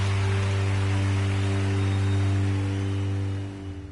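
Steady rain hisses through a wet-weather race in the Gran Turismo Sport video game, layered over a constant droning engine hum that fades slightly at the end, with no voices.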